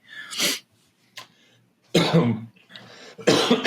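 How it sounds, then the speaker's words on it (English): A coughing fit: several harsh, close coughs in separate bursts with short pauses between them. No talking. "Little coughing fit there."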